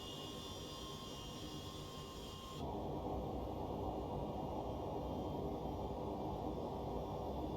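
Steady jet engine drone of a Rotate MD-11F freighter in the X-Plane 12 flight simulator, a quiet hiss that shifts abruptly to a fuller, lower roar partway through, with no talking.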